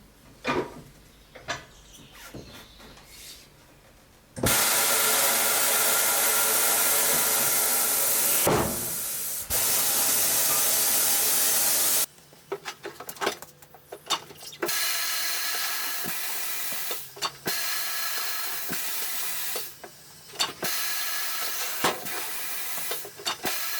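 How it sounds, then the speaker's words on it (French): A pneumatic bead breaker on a motorcycle tyre changing machine in a workshop releases loud, sustained hisses of compressed air in two long bursts, followed by clunks, rattles and softer repeated hissing pulses. "il faut un détalonneur, et le détalonneur, on l'a sur la machine à pneus."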